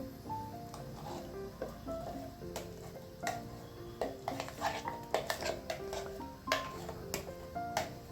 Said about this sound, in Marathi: ह्या तुपावरतीच आपल्याला ह्याला तीन ते चार मिनिट छान परतून घ्यायचे आहे